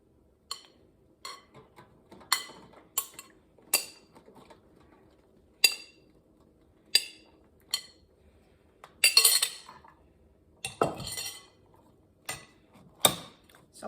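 Food dropped into a metal air fryer rotisserie basket, sounding as a string of sharp, clear metallic clinks and taps, spaced unevenly against near silence, with a brief rustle partway through.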